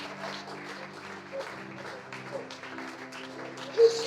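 A church congregation applauds and cheers for Jesus in a steady, moderately distant wash of clapping and voices, with a swell near the end.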